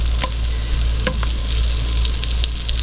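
Sliced onions go into hot oil in a deep pan and crackle in a strong, even sizzle, with a few sharp clicks as more pieces drop in.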